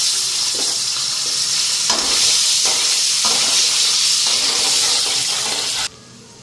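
Potatoes added to a hot pan of oil after frying eggs, sizzling loudly and steadily in a home kitchen, with faint stirring clatter underneath, cutting off abruptly near the end.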